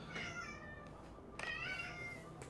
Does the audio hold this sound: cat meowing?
yes